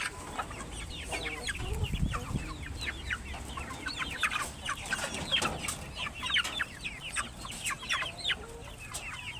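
Pet chickens clucking and squabbling over a snack, with many soft overlapping clucks and chirps in a continuous busy chatter, nearby but fairly quiet and free of talk.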